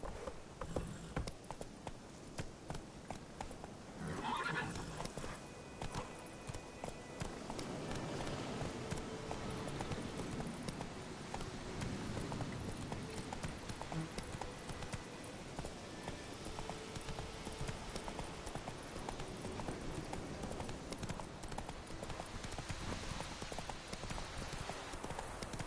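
Roach the horse gallops in The Witcher 3, a steady rapid clip-clop of hooves running throughout, moderately loud and alone with faint game ambience and no talk.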